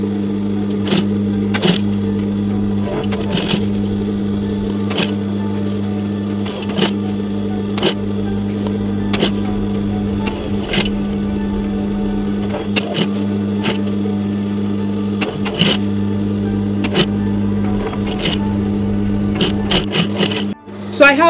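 A sewing machine hums steadily as it stitches down pleats along a marked line on an A-line gown, with sharp ticks and clicks recurring throughout.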